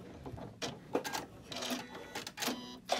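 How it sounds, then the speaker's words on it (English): Home sewing machine running a short lock stitch through a quilt block, short bursts of mechanical whirring and clicking with brief pauses, close up and moderately loud. "I'm going to try and stitch this through and hit my lock stitch too"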